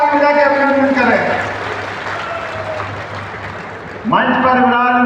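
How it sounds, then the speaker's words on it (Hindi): A large public crowd claps loudly at a government event welcoming minister JP Nadda, the applause swelling, easing off in the middle, then surging again, with an amplified voice over a PA at the start and end. "दोनों हाथ ऊपर के जोरदार ताली बजा के अभिनंदन करें"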